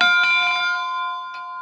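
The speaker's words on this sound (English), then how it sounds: "Nothing saying I can't ring the bell." A bell at Indian Caves State Park in Nebraska is rung, giving a bright clang with a long ringing tail. A second, lighter strike follows about a second later, both close and clear with no talk.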